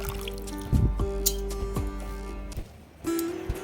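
Water pours and trickles into a pan of rock sugar for making syrup, with splashing drips and a brief gurgling fill, close and fairly quiet.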